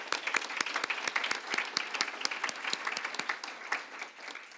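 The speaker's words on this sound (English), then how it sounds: "If we can please give our sponsors a round of applause." A seated luncheon audience at a chamber of commerce event applauds sponsors, with dense, steady clapping from many hands filling the room for several seconds, moderately loud and without talk.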